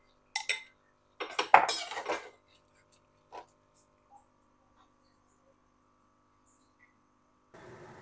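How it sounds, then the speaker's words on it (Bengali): Boiled unripe jackfruit lifted out of its cooking water with a slotted spoon, giving a few short metallic clinks and scrapes of spoon against pot up close, then a long quiet stretch and a final soft clatter. "জল ঝারিয়ে একটা ছান্তা দিয়ে তুলে নেব।"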